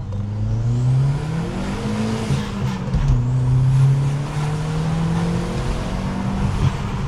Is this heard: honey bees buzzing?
no